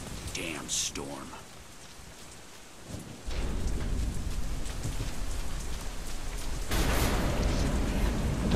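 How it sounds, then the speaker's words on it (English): A rainstorm in the video game Deadlight, with heavy rain hissing and swelling louder in two surges, a rumble of thunder beneath, and a voice speaking briefly at the start. "Damn storm."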